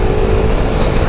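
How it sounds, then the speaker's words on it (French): Ducati Multistrada V4 motorcycle engine pulling hard under heavy throttle, a loud, steady, dense roar held for a moment with no pause. "là c'est un peu désuni à l'accélération tellement le moteur était puissant"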